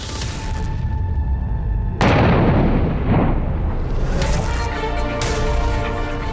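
After a moment of steady background noise, a controlled detonation of munitions erupts in a single powerful boom, then rolls into a heavy rumbling echo that gradually dies down.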